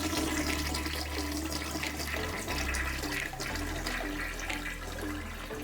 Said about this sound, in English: I flushed it to check the flushing power